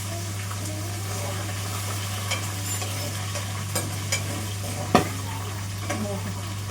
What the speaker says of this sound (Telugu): మిర్చి మాత్రం వేలుతుంది